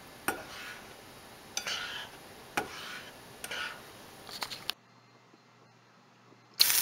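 Breakfast ingredients being mixed in a bowl, with faint scraping strokes and several sharp taps of a utensil against the rim, quiet and close, followed by near silence.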